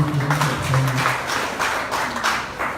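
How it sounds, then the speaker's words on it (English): An audience at an AIM Global Uganda event applauds a young female presenter, a loud, dense, continuous burst of clapping with a low tonal hum beneath it early on. "Let's clap for that young lady."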